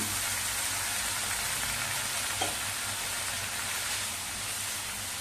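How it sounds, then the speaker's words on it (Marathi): Cluster beans sautéing in a pan with salt give off a steady, loud sizzling hiss after a splash of water is sprinkled over them, with one faint brief tap partway through. "आता थोडासा पाण्याचा हापका मारूया"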